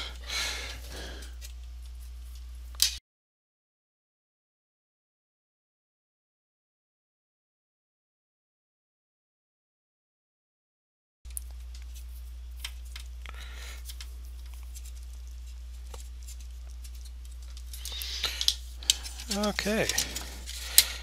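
Screws are removed to take the floppy drive out of an Atari Mega STe computer, heard as faint, close ratcheting and mechanical clicks. A long stretch of silence breaks them, and a denser burst of small clicks follows toward the end.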